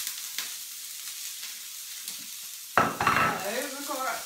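Onions sizzle in hot oil in a cast iron pan, a faint crackle at first that bursts into loud frying around the midpoint and stays steady, with stirring scrapes and no talking.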